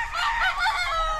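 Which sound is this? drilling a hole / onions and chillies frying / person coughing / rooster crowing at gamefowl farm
rooster crowing at gamefowl farm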